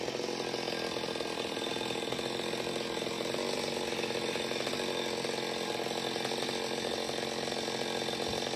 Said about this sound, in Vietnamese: chú bắt đầu bước qua đây cưa